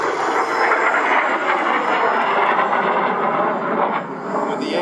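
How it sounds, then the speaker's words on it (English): An A-37 jet aircraft with two J85 engines at the Temora air show, a loud, sustained roaring whine that holds steady and then eases slightly near the end. "The A37 is powered by two J85 engines"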